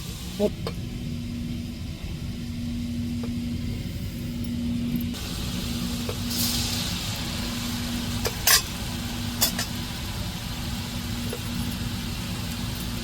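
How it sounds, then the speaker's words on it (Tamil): Murukku dough pressed into hot oil for Diwali sweets, a continuous close sizzle with a low steady hum underneath and a few sharp clinks of utensils. "இப்படியே நம்ம மாவை கொஞ்சம் கொஞ்சமாக முறுக்கு புளிகிறதுல புளிஞ்சு அப்படியே எண்ணெயில் போடுவோம்"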